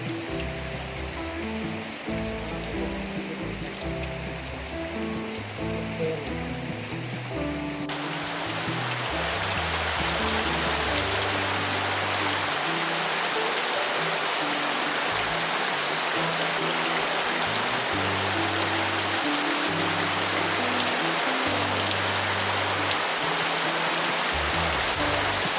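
Rain falls on a lake during a fishing outing, beginning as a softer patter and swelling after several seconds into a dense, loud, steady hiss that continues without speech.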